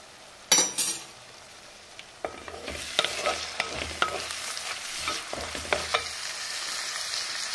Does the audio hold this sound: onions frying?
yes